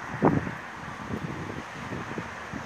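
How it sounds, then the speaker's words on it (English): Wind on a cold, wet, windy morning outdoors, a steady broadband rush with a brief buffeting gust against the microphone near the start, then continuing evenly with no talking. "It's cold,wet, windy."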